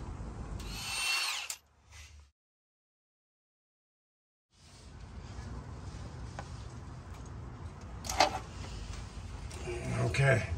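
Power tool, likely an impact wrench or drill, working on bolts of a cracked flywheel housing on a Peterbilt 379 truck, heard in loud whirring bursts at the start and again later after a silent gap, with background shop noise.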